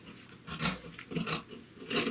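Scissors trimming the seam allowance on a jacket collar, giving three short snipping cuts through fabric in a quiet room.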